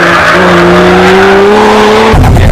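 A 550-horsepower rear-drive Toyota Supra driven over a bumpy course, its engine droning loud and close with a steady rising tone, then a sharp shift to a rougher, lower roar at the end.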